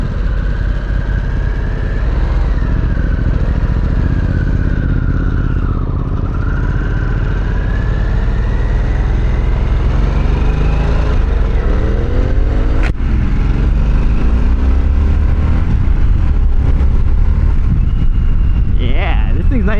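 Motorcycle engine running, a Harley-Davidson Sportster S or Triumph Speed Twin, a loud steady low rumble with rising and falling revs and a whining tone, heard close while people talk over it.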